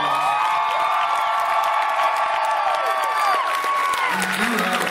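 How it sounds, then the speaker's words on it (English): A large event crowd applauds and cheers, with steady clapping, whoops and shouts forming a loud, continuous wash of sound throughout. "Give them a big round of applause."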